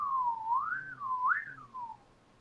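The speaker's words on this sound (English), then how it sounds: "He can whistle and." A person whistles a wavering, sliding melody for about two seconds, rising and falling in two swoops before trailing off, clear and alone with no talking.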